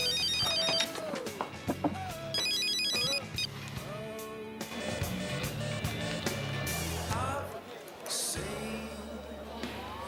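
A mobile phone ringtone plays loudly in a TV soap opera scene, a repeating electronic melody with patterned beeps running throughout, mixed with background music and ambient noise, no clear talking.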